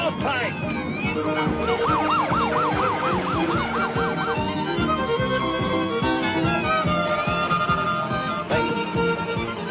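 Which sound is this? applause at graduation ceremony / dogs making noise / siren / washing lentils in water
siren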